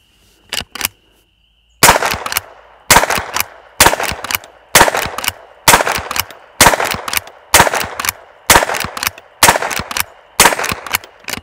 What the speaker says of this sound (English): the little Henry rifle's just, it'll cycle anything that I've thrown at it as far as 22 ammo